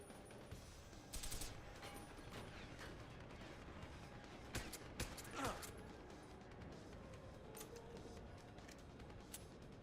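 Combat rifle fire in the video game Deus Ex: Human Revolution, a few short bursts of shots with crashing impacts over a low, steady game background.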